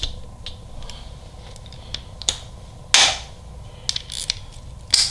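Bolt on a Harley-Davidson Milwaukee-Eight engine snugged down with a ratchet during a Red Shift cam install, quick clicking pawl ticks with a few sharper metallic snaps, close and alone over a low hum.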